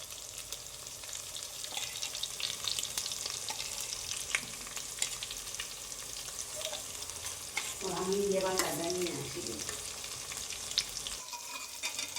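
Green chilli, garlic, coriander, cumin and ginger pastes fry in a pan for a Bengali meat kosha, a continuous hissing sizzle with ongoing stirring and a brief burst of bubbling partway through.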